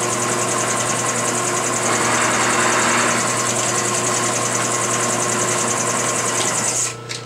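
A milling machine takes a steady cut on an outside radius, giving a continuous loud whirring, droning hum with a fine rattling buzz that holds for several seconds before the cut eases off at the end.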